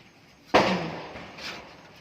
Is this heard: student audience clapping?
no